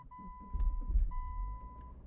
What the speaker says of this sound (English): Okay, I'm gonna start the vehicle now